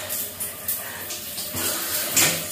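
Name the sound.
shower water running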